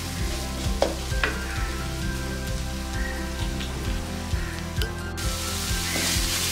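Ginger garlic paste fries in a pan on a low flame for prawn malai curry, giving a steady soft sizzle with faint stirring clicks and scrapes in a tonal background, no talking.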